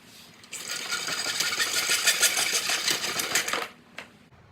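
Saw cutting through PVC pipe for a homemade tonfa: a loud, rapid rasping burst of about three seconds, alone, then a short clack as it stops.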